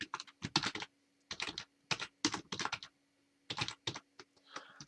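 Code being typed on a computer keyboard, close and crisp clusters of rapid key clicks broken by short pauses, with no voices.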